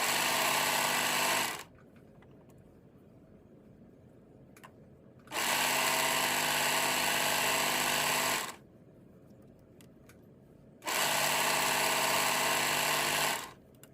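A sewing machine runs in three steady bursts of stitching, each a few seconds long, with quiet pauses between them; no talking.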